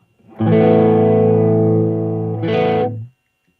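An electric guitar played through a boost pedal on a Line 6 and Tonex rig rings out as one loud, sustained, distorted chord lasting about two seconds, followed by a short restruck chord that then cuts off cleanly.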